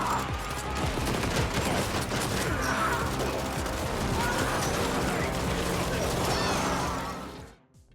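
Explosive weapons fire in sustained, dense bursts in The Ascent, a cyberpunk action game, while enemies blow apart, making a loud continuous barrage of blasts and crashes that fades out at the end.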